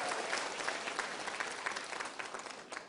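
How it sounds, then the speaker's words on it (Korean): Audience in a lecture hall applauding: dense, steady clapping for about three seconds at moderate volume, with no talking over it. "박수 소리가 너무 작아요."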